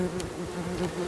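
A honeybee buzzes close by near a marked queen bee in a hive, a steady low droning hum with slight wavering pitch, loud and alone.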